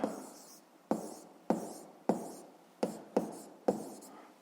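A physics formula written by hand, seven crisp taps each trailing into a brief scratching stroke in a steady rhythm, close and quiet, no voices.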